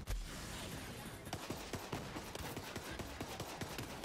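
Sniper and automatic gunfire in the video game Borderlands 3, with a steady run of sharp shots and bursts at close range over constant battle noise, no talking.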